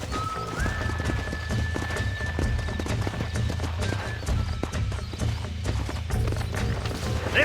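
Rhythmic clip-clop of horse hooves in Red Dead Redemption, close and continuous, with a sustained tone humming in the background.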